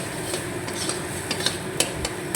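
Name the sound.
slowly stirring bean mash in pan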